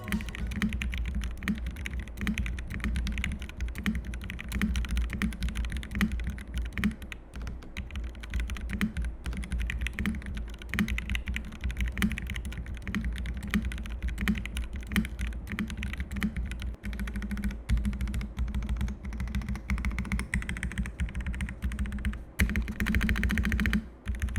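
Steady, rapid typing on a Rexus Daxa M84X mechanical keyboard, the keystrokes soft and muted rather than clacky, continuing without pause and with no voices.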